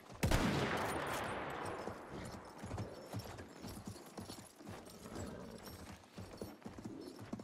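In Battlefield 1, a horse gallops in rapid clip-clop rhythm after a sharp opening gunshot, with scattered distant gunfire continuing faintly beneath the hoofbeats.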